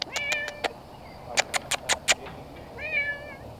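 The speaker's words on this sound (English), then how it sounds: "She is a cat on a mission." A calico barn cat meows repeatedly, a few short calls followed by a burst of quick chirping meows and a longer drawn-out meow, close and clear over a quiet background.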